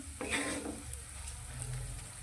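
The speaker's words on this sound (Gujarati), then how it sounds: "બધી જ વસ્તુ આપણી સારી રીતે ચડી જાય ત્યાં સુધી તેને આ રીતે સાંતરીશું" Vegetables and leftover dal-rice being sautéed in a pan, with a steady close sizzle and a few stirring scrapes near the start, continuing alone without talk.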